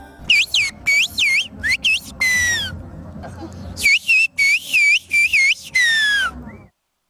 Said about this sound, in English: the whistled sounds will never end across the misty plateaus of the Black Sea